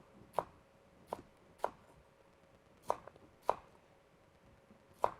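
A sharp knife chops food on a cutting board in six crisp, separate knocks at uneven intervals. It is close and quiet, with no talking.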